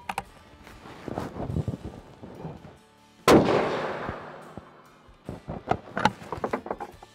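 A Springfield Armory Redline Model 2020 rifle fires one loud, close shot with a long rolling echo, followed by scattered sharp mechanical clicks and clatter from handling the bolt and chambering.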